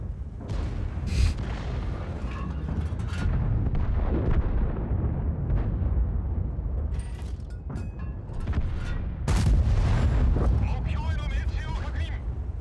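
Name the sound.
tank cannon firing premium rounds in video game World of Tanks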